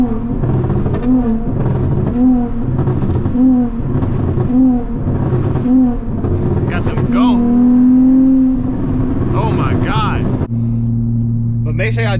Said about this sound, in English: Got them burbles going.